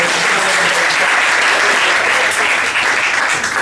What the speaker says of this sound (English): Everyone give him a big round of applause.